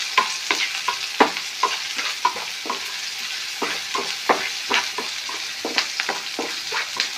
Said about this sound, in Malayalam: അപ്പോൾ സവോള വേഗം ഫ്രൈ ആവും.